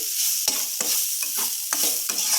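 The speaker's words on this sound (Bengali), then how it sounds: "আমি আবারও ভালো করে সুন্দর করে নেড়ে নিচ্ছি" Spiced cauliflower mash for cauliflower paratha being stirred in a pan, with about six distinct loud scraping strokes at an even rhythm over a constant sizzle, close by and with no talking.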